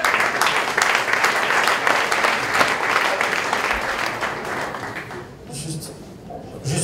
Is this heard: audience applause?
yes